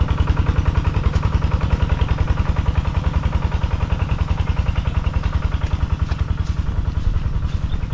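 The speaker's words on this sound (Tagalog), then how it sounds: "nandun na natin yung ating makina" An irrigation pump engine runs steadily beside a rice paddy, giving a loud, close, rapid rhythmic chug with mechanical clatter that holds unbroken throughout with no talk.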